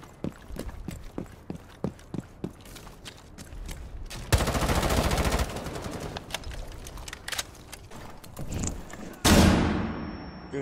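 Gunfire in the Rainbow Six Siege video game. It opens with sharp single shots in an uneven rhythm, then breaks into loud sustained bursts of rapid fire, with brief pauses between volleys.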